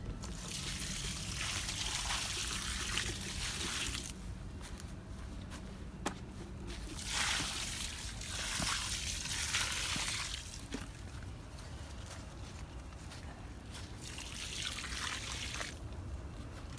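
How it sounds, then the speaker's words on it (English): Water poured onto dry ground around the base of an avocado tree, a soft trickling and splashing that comes and goes in bursts, fairly quiet. "put more water on all the parts that I fertilized"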